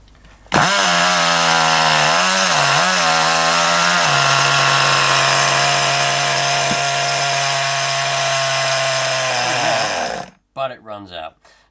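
An old nitro RC car engine, its carburetor clogged with blockages, cranks loudly in one long, steady droning buzz, close and continuous, then cuts out into a few sputtering bursts at the end.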